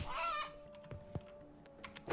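Game sound effects from the roguelike Once Upon a Dungeon II as a chicken is attacked: a short honking squawk at the start, followed by scattered soft thuds and clicks over a steady faint electronic drone.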